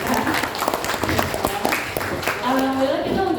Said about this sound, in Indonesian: Kita beri tepuk tangan buat mereka.